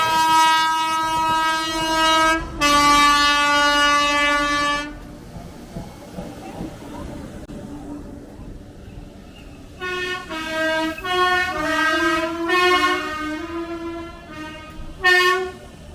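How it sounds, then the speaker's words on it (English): A train rushing through a station at speed with its horns blasting at full volume, two long loud tones at the start, a rumbling pass in between, then a run of shorter horn blasts near the end. "It absolutely shot through there, and that was the first time I'd really heard the horns full blast."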